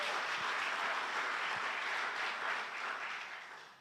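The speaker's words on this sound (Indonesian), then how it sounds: "Beri tepuk tangan buat Tuhan Yesus." A church congregation applauds together in a dense, steady wash of clapping that holds for several seconds, then gradually thins toward the end.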